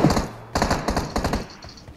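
Rapid bursts of gunfire from a PUBG-style battle royale shooter game, several quick volleys separated by brief gaps, fairly loud, with no talk over them.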